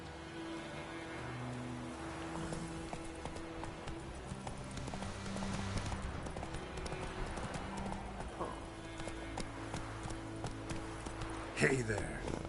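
Roach the horse gallops in The Witcher 3, quick rhythmic hoofbeats running continuously over game music, with a brief whinny and a sharp clatter near the end.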